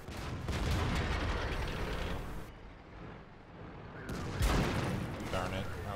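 Tank cannon fire from the World of Tanks game sounds as heavy booms within dense, loud battle noise, partly under someone talking over the action.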